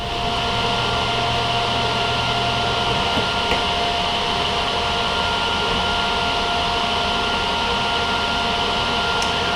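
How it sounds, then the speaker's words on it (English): Steady, continuous hiss and buzz of a TIG welder fusing a forward-facing turbo manifold, running at an even level close by and alone for the whole stretch with no voices. "So now we just take it back off and let's get it all completely welded up."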